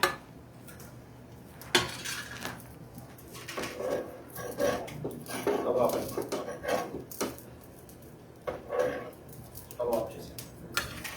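Plates being handled in a busy roadside hotel kitchen where dosas are made, with scattered clinks and clatters of crockery and utensils under steady nearby conversation.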